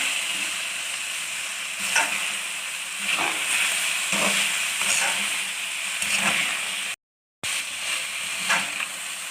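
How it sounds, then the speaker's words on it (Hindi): Chinese-style rice with soy sauce and vinegar frying and being stirred in a pan: a steady close sizzle with regular scraping stirs, interrupted by one brief moment of silence. "अच्छे से हम मिक्स करेंगे, फ्राई करेंगे 2 से 3 मिनट के लिए।"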